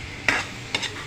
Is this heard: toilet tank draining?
no